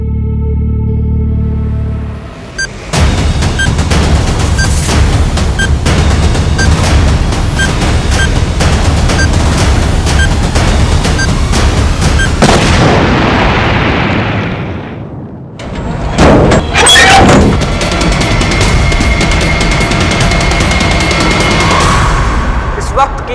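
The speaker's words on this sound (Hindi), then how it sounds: "वहाँ एक घर में बॉम्ब विस्फोट हुआ है" A bomb blast in a house in a Hindi TV crime drama: loud, dense booms and crashing bursts roar for a long stretch, then a brief near-silence, then another heavy rumbling burst.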